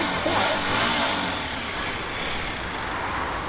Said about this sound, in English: So let's start these up and see what they sound like. First of all, the Hyosung GTR.